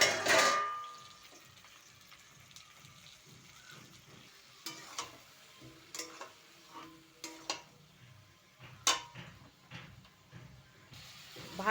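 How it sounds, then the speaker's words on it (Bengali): Spice paste of turmeric, coriander and chilli powder mixed with water sizzles quietly in a pan while being stirred, with a series of light scraping taps and clicks from the spatula through the middle and end. "ভালো করে ভেজে নেব।"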